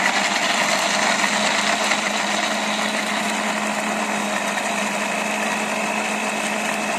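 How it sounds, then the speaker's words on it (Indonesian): Electric kitchen blender grinding spice paste for gulai, a loud steady whirring motor drone running without pause throughout. "Kita blender lagi."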